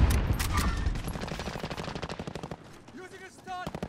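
Rapid bursts of automatic gunfire in the battle royale video game Warzone, loud and dense at first then thinning into spaced shots, with a voice talking briefly over the end.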